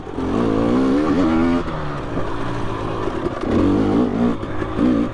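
A 2020 KTM 300 XC two-stroke dirt bike with Ohlins RXF48 forks and TTX shock revs hard along a rooty, rocky off-road trail, its loud engine rising and falling continuously close to the rider.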